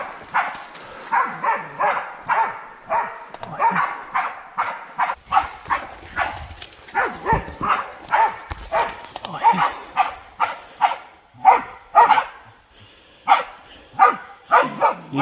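Several hunting dogs out on a pig hunt bark and yip in a steady, rapid series at mid distance, with occasional whines, while people talk now and then underneath.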